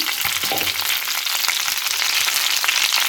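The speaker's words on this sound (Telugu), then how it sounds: "మిగిలినవన్నీ ఫ్రై చేస్తున్నాను జాగ్రత్తగా నెమ్మదిగా కలుపుకోవాలన్నమాట" Indian gooseberries (amla) frying in hot oil for pickle, a loud dense sizzle running throughout with soft stirring movements, close and without speech.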